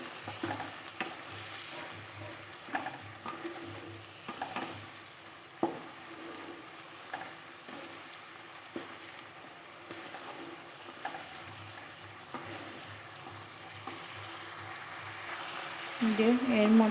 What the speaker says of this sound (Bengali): এটা বেশ শুকিয়ে যাওয়া অবধি নেড়ে চেড়ে কষিয়ে নেব।